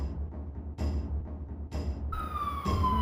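An emergency vehicle siren, loud and close, rising in bursts and then settling into a falling wail, heard alone.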